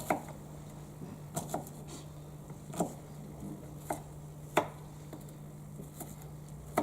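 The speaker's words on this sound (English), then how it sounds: "You can cut the onion a bit chunky, your desired shape or size." A knife chops an onion on a board in slow, irregular single strokes, each a faint sharp tap with quiet pauses between them and a low steady hum underneath.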